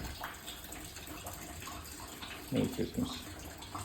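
Water pours into a house through a storm-damaged hole in the roof after a severe Queensland storm, a running gush that swells near the end while a voice speaks briefly over it.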